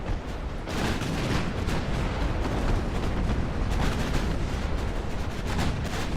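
Twelve-inch naval guns firing in Ultimate Admiral Dreadnoughts, a dense, continuous rumble of heavy booms overlapping one another, loud and sustained with no talking.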